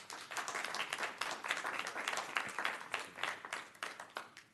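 Applause from an audience at a South Haven city council meeting, a steady wash of many hands clapping at moderate distance with no one speaking over it.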